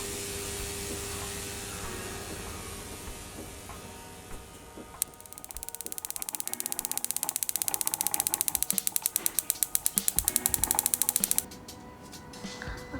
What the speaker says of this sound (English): This is a Wimshurst machine. This machine is an electrostatic generator that generates very high voltage.